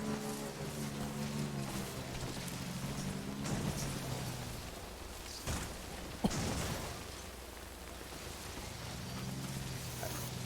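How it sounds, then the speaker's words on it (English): Steady rain pours in the video game Death Stranding, a constant dense hiss with occasional louder splashes and a brief crack near the middle, heard alone without voices. "Great rain."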